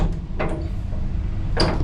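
A carriage door on a sleeper train in Egypt is tried but stays shut: two or three short, close knocks and rattles against a low steady rumble, with no voices.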